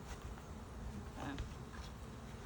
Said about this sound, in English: I see a lot of bees